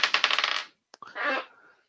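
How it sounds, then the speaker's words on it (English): Dice rolled during a tabletop role-playing game discussion: a quick run of hard clattering bounces tumbling across a surface, then a pause and a second short rattle, with no voices. "Let's roll the dice again."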